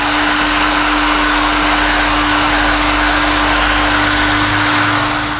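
A hair dryer blows on a painted craft piece in a workshop, a loud, steady whooshing roar with a constant motor whine, unbroken and alone for the whole span.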